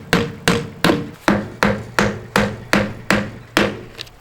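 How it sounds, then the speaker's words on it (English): A hammer tacks a skirting panel onto the wall of an '80s mobile home, landing about ten sharp, evenly spaced blows close by with no talking. "Just hold that up and I'll start tacking it in."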